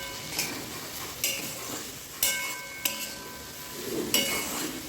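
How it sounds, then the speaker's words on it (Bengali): Spices with turmeric and green chili are stirred and fried in a pan, with a soft frying hiss under several distinct scraping, clinking strokes of a utensil against metal, spaced about a second apart. "এভাবেই নাড়াচাড়া করে কিছুক্ষণ ভাজবো এটাকে"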